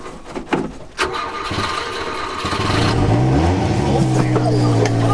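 JDM import truck engine cranking and catching after the gas is pumped in neutral, a few clunks and a short crank, then the engine fires and settles into a loud, steady idle with rising revs.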